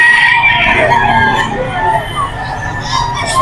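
A bullstag rooster, about fifteen months old, crows at a busy pet market, its call rising over steady crowd noise and nearby voices talking.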